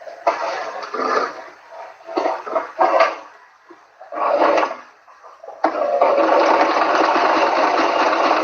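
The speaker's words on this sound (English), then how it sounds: "let me do a top stitch" A sewing machine top-stitches close to the edge around a fitted garment pattern in short bursts of motor whir, then runs steadily for the last few seconds, close and alone.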